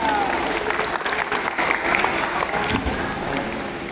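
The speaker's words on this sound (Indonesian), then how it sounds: "Tepuk tangan buat kawan kita." An audience at a scouting introduction session claps for a fellow participant, a full, fairly loud round of applause with a few voices and cheers mixed in, lasting a few seconds.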